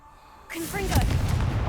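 A Confringo blast spell explodes in Hogwarts Legacy, a sudden heavy boom swelling into a sustained roaring rumble with a short voiced cry layered on top.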